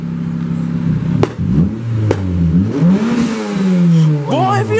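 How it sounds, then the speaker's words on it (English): A muscle car engine revs up and down at close range, its pitch climbing and falling in rough swells, with a few sharp pops. "Press on it. Press on the gas."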